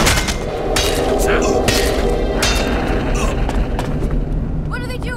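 Gunfire in the action RPG ELEX 2, dense crackling shots and booms running through most of the span with a voice speaking under the din.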